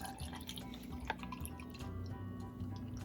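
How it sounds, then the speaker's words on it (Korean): Iced Americano coffee poured over ice in a cup, giving a soft steady liquid trickle with a few small clinks and drips, quiet and close, with a faint background hum. "이렇게 컵에 얼음을 넣고 아메리카노를 넣어서"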